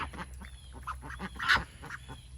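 Several small ducks quacking and peeping in a quick, irregular run of short calls, fairly close by, with one louder call near the middle and low background rumble underneath.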